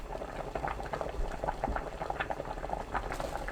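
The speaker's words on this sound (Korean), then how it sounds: "뚜껑 열어둔 상태로 3분 더 끓입니다" Rice porridge with tiny dried rice shrimp and coarse salt bubbles in an uncovered pot, a steady close blurp and pop of thick boiling with soft irregular splutters throughout, no voices.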